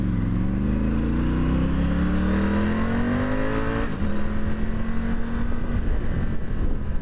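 A Triumph Tiger 900 Rally Pro motorcycle engine drones loudly as it is ridden, its pitch climbing steadily and then settling at a constant cruising hum, with wind rush and no voices.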